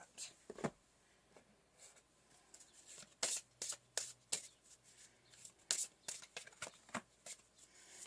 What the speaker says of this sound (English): I'm going to pull some oracle cards for you to start